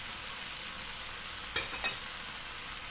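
Okra stir-fried in a pan over high heat gives a steady, close sizzling hiss throughout, with a couple of brief stirring scrapes near the middle and no talking.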